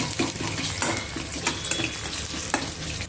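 Crushed unpeeled garlic and seasonings sizzle in hot oil for a village-style pachhi pulusu rasam, with steady frying crackle and occasional stirring scrapes and clinks of a utensil against the pan.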